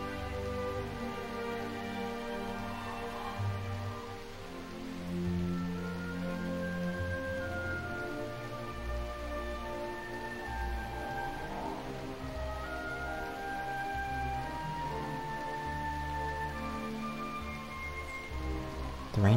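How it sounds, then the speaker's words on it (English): Steady rain falling in the video game Dragon Quest 8, a continuous close patter over soft background music, with no voices. "The rain continued until dawn,"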